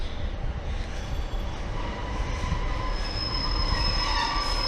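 A Class 156 diesel train pulls into a station platform, its steady rumble of wheels on rail building slightly louder, with a thin high wheel squeal running through the later part.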